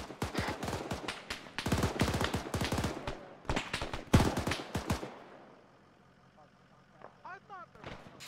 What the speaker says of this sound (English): Bravo taking fire from our west.